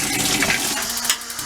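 Water gushes from a hose into a sink beside a temporary outdoor shower setup, a loud close rushing splash that swells and then settles slightly.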